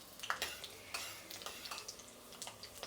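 Mustard seeds and chana dal fry in oil with a soft, close crackle and sizzle, broken by light irregular pops and a few faint stirring scrapes in the pan.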